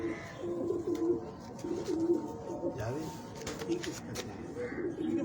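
Pigeons kept on a rooftop coo in soft, repeated throaty calls, close by and moderately quiet, over a low background murmur.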